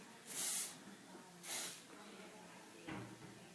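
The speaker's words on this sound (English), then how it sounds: "Right here is where you want to spray mainly" Hairspray hisses in three short bursts onto hair being styled for a competition, the first two strong and close, the last shorter and softer, with quiet room background between them.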